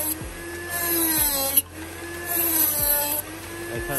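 A cutting tool making cross cuts through material for a Kraken 580 cooler mod fitted to a Nitro build, with a steady whining buzz in repeated strokes broken by a brief pause, loud and close.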